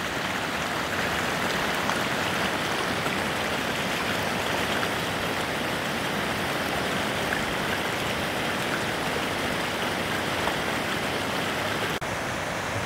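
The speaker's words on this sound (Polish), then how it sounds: "ten potok, który widać w dole, jest sztucznie stworzony przez człowieka, bo jest to młynówka" A man-made mill stream at the site of an old mill flows steadily and continuously, with a dense, even rush of water held at one level throughout and no voices.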